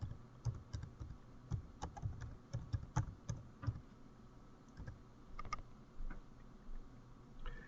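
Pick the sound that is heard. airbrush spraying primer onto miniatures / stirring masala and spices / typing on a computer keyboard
typing on a computer keyboard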